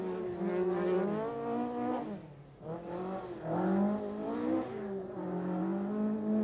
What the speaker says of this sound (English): this is the champion style in the works Ford Escort RS